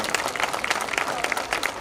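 Audience applause for the women performers of a 2024 Ramleela stage play, a dense, steady patter of many clapping hands throughout the short stretch, with no voices over it.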